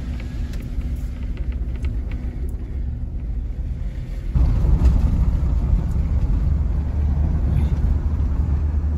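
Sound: 4x4 car driving on a snowy mountain road

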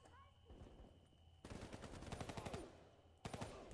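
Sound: gunfire from the video game Call of Duty Black Ops 3

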